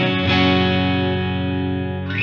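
Electric guitar played through an HX Stomp on a Fender-style amp setting, a single sustained chord ringing out loud and close, slowly decaying over a couple of seconds with a light pick noise at the end.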